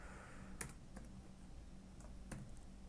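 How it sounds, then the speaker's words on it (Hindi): Quiet, sparse keystrokes on a computer keyboard, a handful of separate clicks spread irregularly over a few seconds, close but faint, with no talking. "तो मैं ई-कॉमर्स यहाँ पर टाइप कर देता हूँ"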